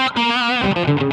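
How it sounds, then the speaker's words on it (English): An electric guitar runs through the Satch Overdrive pedal from the Joe Satriani set in Amplitube 5, sounding a short, loud, mid-heavy overdriven phrase of bending, sustained notes with thinned lows. "I have the Satch Overdrive, which comes from the Joe Satriani set, and it sounds like this."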